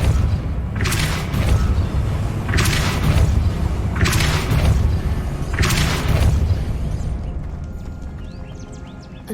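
Depulso spells cast in Hogwarts Legacy, four heavy, booming magical blasts spaced about every one and a half seconds over a low rumbling backdrop, the last fading out into quiet, with no voices.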